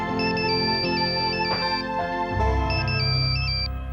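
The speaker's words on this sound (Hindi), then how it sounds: "ओ, इस मोबाइल को अभी बजना था।" A mobile phone ringtone plays a bright repeating electronic melody, loud and close, with a low hum joining partway through.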